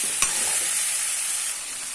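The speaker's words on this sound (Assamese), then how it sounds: "মিক্স কৰি পেলাই মই এইখিনি ফ্ৰাই কৰিম" Chicken curry mixture fries in a pan with a steady broadband sizzle, a single brief clink of the stirring utensil near the start, then a slightly softer hiss. No voices.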